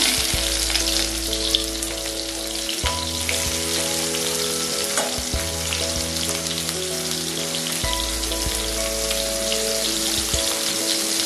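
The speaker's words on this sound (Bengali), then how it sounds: "তুলে নেওয়ার পরে আমি গরম তেলটাতে পেঁয়াজ কুচি দিয়ে দিলাম।" Chopped onion frying in hot oil, a loud continuous crackling sizzle with occasional soft knocks from stirring.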